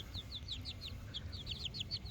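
Four-week-old chicks give a quick run of high, thin peeping chirps, faint and fairly close, repeating in an uneven patter over a low background rumble.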